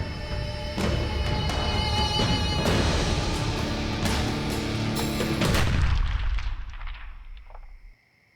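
Gunshots ring out in a Hindi TV crime drama from the Crime Patrol series. Several sharp, loud bangs crack over a dense dramatic backdrop, and everything fades to near silence at the end.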